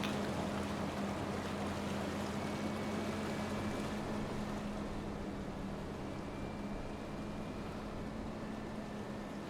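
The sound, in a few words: boat making waves in water, Farming Simulator 25 video game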